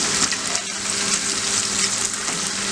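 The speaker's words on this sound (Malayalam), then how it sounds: "മീനച്ചാറിനുള്ള മീൻ വറക്കുമ്പോൾ നല്ല മൂത്ത് വറക്കണം" Fish sizzling and crackling steadily in hot sesame oil (gingelly oil) in a pan, fried hard for fish pickle; a dense, continuous close-up frying hiss with no talk.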